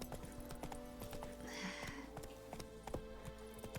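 Horse hooves clip-clop steadily in The Witcher 3 as the horse heads off-road, a quiet rhythmic trot of repeated hoof strikes heard alone.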